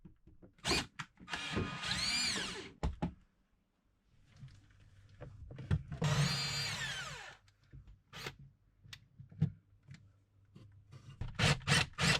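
A power drill whirs in several bursts, spinning up and biting in, drilling holes in a sailboat, with short pauses and clunks of handling between runs.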